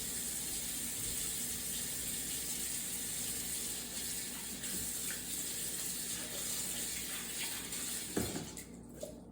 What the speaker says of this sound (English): I'm actually just gonna rinse this in warm water.